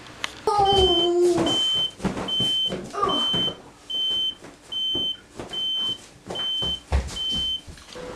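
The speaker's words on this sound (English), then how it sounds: "I end up burning something and setting the smoke alarm off" A kitchen smoke alarm, set off by burnt cooking, beeps in a steady series of loud, high-pitched pulses, about once per second, after a few brief bumps and clatters.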